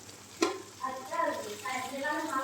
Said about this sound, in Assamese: পানীখিনি শুকোৱালৈকে অলপ টাইম ভাজিম